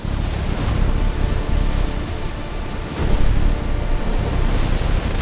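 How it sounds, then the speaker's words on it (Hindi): Strong wind and high surf roar continuously around a ship at sea during a storm, a loud, dense rushing wash that swells and surges in waves with no voices. "तेज हवाओं और ऊंची लहरों के बीच जहाज को संभालने की पूरी कोशिश की जा रही थी।"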